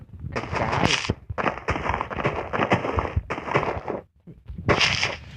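Minecraft explosions burst in a rapid series of loud, crackling blasts, separated by brief gaps and followed by another burst near the end; no clear speech over them.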